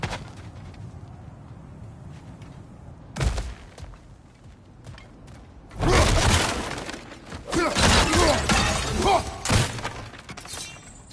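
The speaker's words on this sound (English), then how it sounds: "back to smashing through things for fun and profit" Objects being smashed apart in God of War: loud crashing, splintering bursts, one sharp impact followed by a longer cluster of heavy breaking and debris clatter over a low background.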